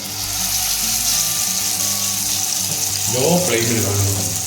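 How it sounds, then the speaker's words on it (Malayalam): Coconut oil sizzles and crackles steadily as eggplant fries in a pan, with a louder burst of hissing partway through. "ഫസ്റ്റ് വഴുതനങ്ങ വെളിച്ചെണ്ണയിലേക്ക് വെക്കുകയാണ് കേട്ടോ"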